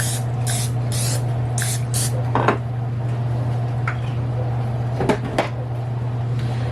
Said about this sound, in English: you want to make sure that you grease it really well. So I'm just going to spray this